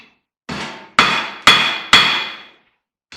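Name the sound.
hammer whacking epoxy-covered copper on an anvil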